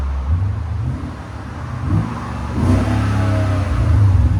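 A 2018 Genesis G80 with a 5.0L V8, H-pipe and Borla ProXS exhaust revs up loudly close by, its deep engine note holding a steady mid-level hum before climbing to a stronger, sustained rumble.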